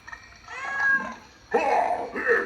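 Cat meows from a Halloween animatronic man-eating plant toy, two drawn-out electronic mews in a row, loud and close, with no talking over them.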